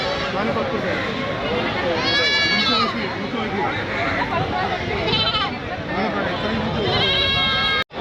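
Young goat kids bleating at the busy Vaniyamkulam goat market in Kerala, with several high wavering bleats rising over a crowded din of talking voices and market bustle.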